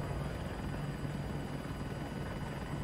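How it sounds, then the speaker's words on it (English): Attack helicopter in the video game Battlefield 2042, a steady, loud rotor and engine drone that holds without break throughout, with no talk over it. "going for the attack chopper"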